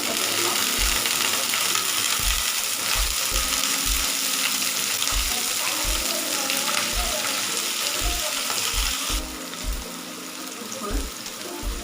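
Brinjal (eggplant) pieces frying in a pan in a Tamil home kitchen, a steady loud sizzle with sputtering and irregular low clunks and knocks throughout.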